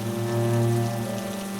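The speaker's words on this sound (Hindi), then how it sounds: "बारिश इतना तेज हुआ कि आगे कुछ दिखाई नहीं दे रहा था।" Heavy rain pours steadily during a village storm, a dense even hiss under loud sustained background music tones, with no speech.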